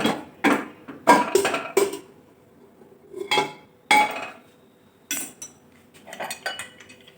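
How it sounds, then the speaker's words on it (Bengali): A metal cake tin for a semolina fruit cake clanks and clinks against a stand inside a pressure cooker, several separate knocks and scrapes with short quiet gaps between them. "কেকের টিনটা আমি দিয়ে দিচ্ছি।"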